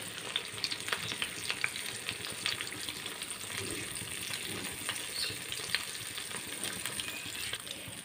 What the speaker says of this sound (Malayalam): ഓക്കേ എണ്ണ നല്ലതായിട്ട് ചൂടായി നമുക്ക് ഒഴിച്ച് കൊടുക്കാം